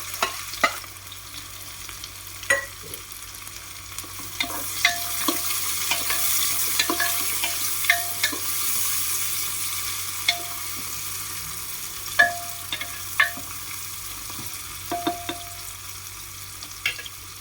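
Onions for mushroom biryani frying in a pan, a steady hiss of sizzling with repeated light clinks and scrapes of a stirring spoon throughout; no one speaks.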